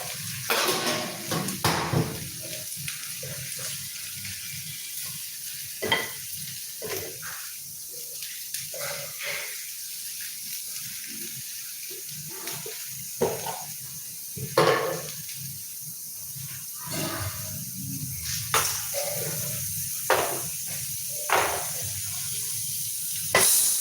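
A tempering of mustard seeds, cumin and urad dal sizzles in a clay pot, a steady low frying hiss broken by scattered sharp pops and crackles, close and moderately loud with no talking.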